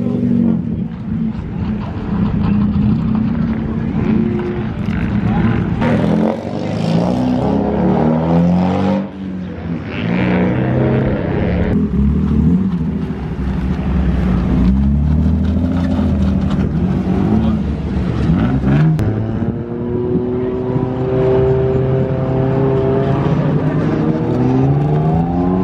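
Drift cars ripping laps at a drift event in Colorado, engines roaring loud and continuous with revving surges, under crowd noise and voices throughout.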